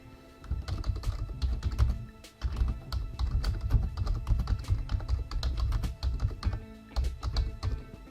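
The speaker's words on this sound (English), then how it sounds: "So the first thing I'm going to do is type in my text here." Steady bursts of rapid keystrokes on a computer keyboard entering text, close and clear, with brief pauses between runs and no talking.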